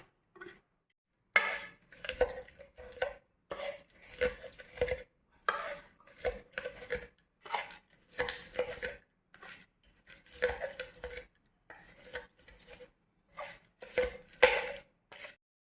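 Steady rhythmic scraping and tapping of metal on a hot griddle as chillies are crushed for kharda, repeated strokes close by with short pauses between them.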